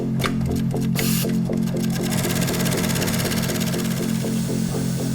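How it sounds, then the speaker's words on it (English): An industrial sewing machine stitching leather pieces for a Porsche 911 GT3 interior in a factory, a fast, even mechanical chatter, loud and close, running continuously after a few brief clicks at the start. "The first workers to get their hands on the cut leather are the sewers, who stitch pieces together."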